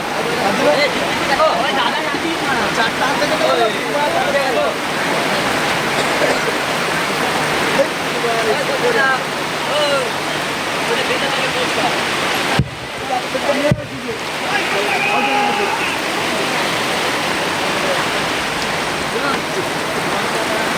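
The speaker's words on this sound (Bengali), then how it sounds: "প্রচুর জোরে বৃষ্টি হচ্ছে" Heavy rain pours down continuously at an outdoor event, making a loud, dense, hissing roar throughout, with a couple of brief thuds and faint voices beneath.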